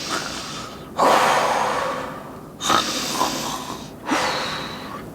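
A voice imitates a person snoring, with three loud breathy snorts spaced a second or so apart, each starting sharply and then trailing off, with no other talk.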